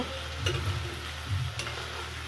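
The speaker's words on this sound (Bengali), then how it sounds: "পুরোটাই দেওয়ার পরে একটু আমি নাড়াচাড়া করে নিব" Soaked pasta stirred in a pan with mustard oil, a steady sizzle broken by two soft scraping stirs, close and alone without talk.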